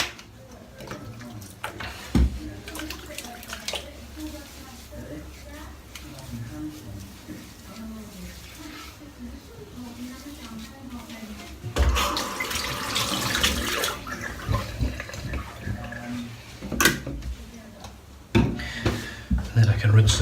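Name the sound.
running tap water for rinsing soap off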